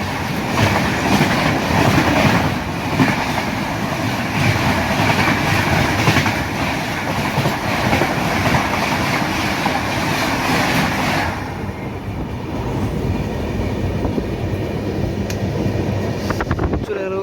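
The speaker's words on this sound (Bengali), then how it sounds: "আর আমাদের পাশে এখন যে ট্রেন যাবে সেটি হলো মৈরিয়া এক্সপ্রেস, সম্বলপুর থেকে গোরখপুর।" The Maurya Express, running from Sambalpur to Gorakhpur, rumbles past alongside in a loud, continuous roar with rhythmic wheel clatter, heard from a neighbouring train under bright sun in hilly country, fading slightly near the end.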